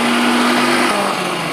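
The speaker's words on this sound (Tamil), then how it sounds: "ஐஸ் க்யூப் மூடி சேர்த்து அரைச்சிடலாம்." Mixer grinder blending chocolate milkshake with ice cubes, a loud steady whirring motor drone heard alone.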